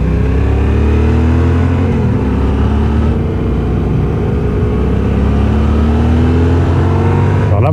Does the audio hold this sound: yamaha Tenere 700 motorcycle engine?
yes